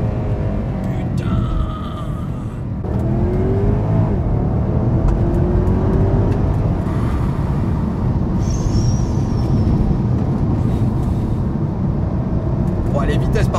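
A Porsche Panamera Turbo with a 500 hp V8 pulls hard from inside the cabin, the engine note climbing through loud, sustained acceleration with a brief dip around a gear change.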